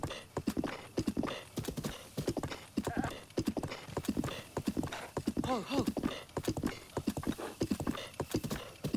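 Rapid clip-clopping hooves with a horse whinnying partway through, close and rhythmic, game audio from The Legend of Zelda: Breath of the Wild.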